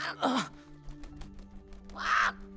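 A cartoon parrot squawking: two harsh, raspy squawks separated by a short gap, loud and close, over a low hum.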